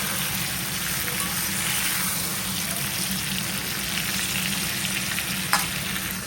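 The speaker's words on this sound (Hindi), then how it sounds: "ये देखो मसाले कोट करने के बाद ना कुछ इस तरीके से आपको बैगन को पकाना है धीरे धीरे" Stuffed eggplant (achari baingan) coated in spices cooks slowly in a pan, giving a dense, even sizzle that holds steady throughout, heard close, with no talk.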